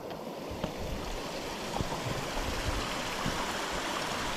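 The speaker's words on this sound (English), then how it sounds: "Little waterfall." A small waterfall on the Overland Track in Tasmania's wilderness gives a steady, close rushing of water that stays even throughout, with no voices.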